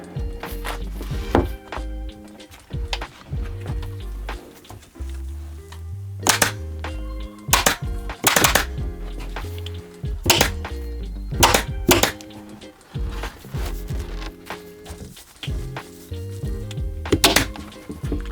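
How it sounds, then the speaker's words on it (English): A staple gun drives staples through Dacron batting into a wooden cornice board, giving loud, sharp, close thwacks at an irregular pace with quieter handling noise between shots. "Try to staple as close to this edge as I can"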